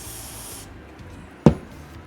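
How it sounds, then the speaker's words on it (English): Short hiss of a super glue activator spray aimed at a crack in a resin print, a steady close spray that cuts off abruptly, followed by a single sharp tap. "Grab my spray activator right here. And then carefully shoot the crack."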